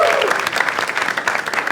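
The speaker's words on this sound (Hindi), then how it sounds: "एक बार जोरदार ताली" A comedy show audience bursts into loud, dense applause that holds steady throughout, with a voice briefly audible over the clapping.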